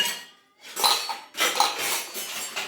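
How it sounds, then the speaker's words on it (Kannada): Bowls and dishes clink as they are lifted and gathered in a home kitchen while masala puri is prepared for a party, with two close bursts of bright, clattering ceramic and metal knocks after a short quiet start. "ಈಗ ಬೌಲ್ ಎತ್ಕೊಳ್ಳೋಣ ಬೌಲ್ ಎಷ್ಟು ಬೌಲ್ಸ್ ಬೇಕೀಗ ನಮಗೆ"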